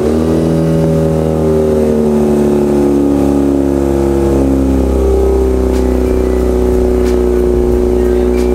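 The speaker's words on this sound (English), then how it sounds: "we're gonna pull the BRZ into the garage" A Subaru BRZ creeping into a garage on a light-rain day, its engine a loud close steady low drone with slight rises in pitch as it moves slowly, no talking over it.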